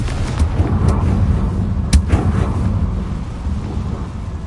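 A Confringo fire spell explosion in Hogwarts Legacy, a loud booming blast with a crackling rumble that rolls on and slowly fades, heard alone without talk.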